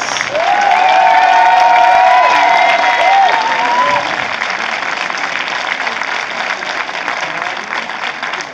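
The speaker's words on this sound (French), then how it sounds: "On applaudit comme il se doit." A large crowd at a hip hop dance event applauds steadily, dense clapping filling the space for several seconds, with a few cheers and whistles rising near the start.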